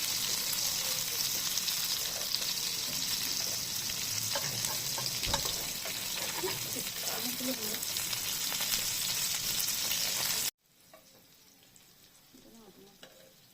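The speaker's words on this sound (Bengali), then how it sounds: "এখন একটা প্যানে তেল গরম করে সবগুলোকে আস্তে আস্তে ভেজে ফেলবো।" Prawn fritters fry in hot oil in a pan with a continuous, bubbling sizzle and occasional stirring, close and steady for about ten seconds before cutting to a much quieter room with faint soft sounds.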